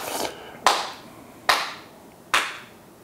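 Three sharp, loud hand claps spaced under a second apart, close by and crisp, each followed by a short decay over quiet room tone, after a brief earlier clap at the start.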